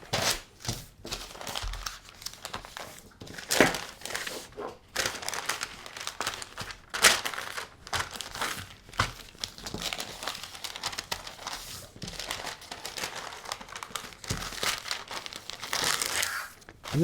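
Brown wrapping paper for a bouquet is crumpled and crinkled in close, irregular bursts of rustling and crackling that run throughout, with quieter pauses between handfuls.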